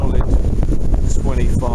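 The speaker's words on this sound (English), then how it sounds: "25-28 mile an hour wind today" Gusty wind of around 25 to 28 mph buffets the microphone outdoors among bare trees, a loud rumbling roar that surges and dips.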